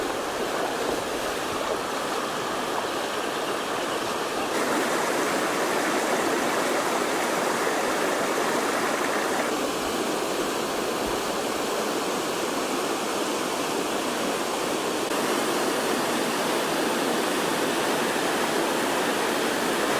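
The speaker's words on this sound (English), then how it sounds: "It's a great little cascade on the Macalister River." A small cascade on the Macalister River in the Victorian High Country rushes steadily, a close, continuous broadband roar of tumbling water with no voices.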